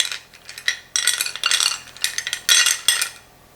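Pieces of homemade Lacto King hard caramel candy clink together in a rapid run of bright, glassy taps and rattles, close and crisp, with no talking.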